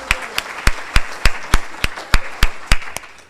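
Clapping at a Kiwanis community gathering honoring a volunteer: loud, sharp claps land in a steady, evenly spaced rhythm for a few seconds, with no talking over them.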